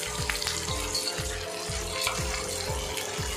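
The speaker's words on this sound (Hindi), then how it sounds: "इसको भी इसी के साथ बढ़िया से भून लेते हैं।" Chopped tomatoes with ginger, garlic and green chilli paste frying in a pan: a soft, steady sizzle with a regular series of light scraping stirs, fairly quiet and close.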